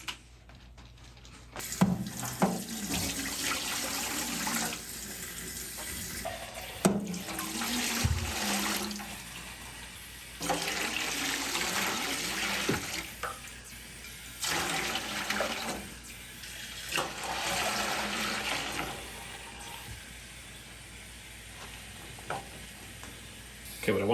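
Water running from a tap into an ultrasonic cleaner tank to submerge an Atari 800XL keyboard circuit board, a steady splashing rush in several bursts separated by brief pauses, close and fairly loud.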